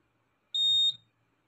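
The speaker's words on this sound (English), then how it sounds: "So i-on natin yung ating beeping alarm muna para maset natin yung sensitivity alarm." A Honda Click 150i motorcycle alarm gives a single short, clear, high electronic beep against near silence.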